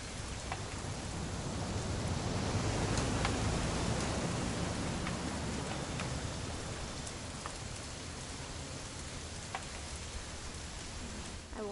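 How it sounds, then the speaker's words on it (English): Steady rain pours in the video game What Remains of Edith Finch, a dense, even hiss with a few scattered drips that carries on unbroken for the whole stretch. "It's gonna rain the whole weekend,"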